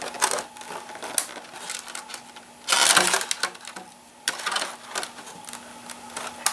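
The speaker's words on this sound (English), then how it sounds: "I'm going to come back and clean up the burrs from the inside." Small tool deburring a light hole in a plastic RC car body, heard as close, irregular scraping and clicking bursts with a louder rasping stretch midway, alone without talk.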